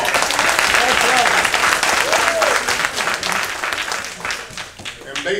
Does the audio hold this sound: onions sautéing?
no